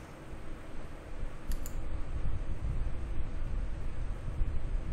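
Computer mouse clicks sound close and quick over a steady low hum and broadband room noise, with a brief bright tick near the start and faint clicking scattered through the rest.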